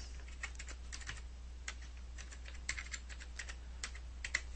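Typing on a computer keyboard, a quiet run of separate key clicks at an irregular pace over a steady low hum, with no one speaking.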